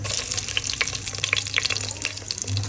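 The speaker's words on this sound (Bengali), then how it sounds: "এখন আমি শুকনো মরিচ দিয়ে দিচ্ছি" Dried red chilies frying in a small amount of hot mustard oil, a steady close sizzle with bright crackling pops scattered over a low hum, no talking.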